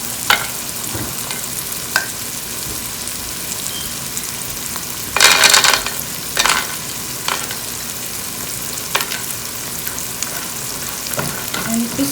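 Walnuts and cashews sizzle softly in a pan over medium heat, with a constant low hiss and occasional scrapes and clatters as they are stirred, and no talking.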